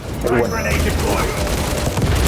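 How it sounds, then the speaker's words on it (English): A frag grenade detonates in Warhammer 40k Space Marine 2, a loud booming burst with crackling gunfire-like noise that stays dense and continuous through the clip, mixed with game combat sounds. "Frag grenade deployed."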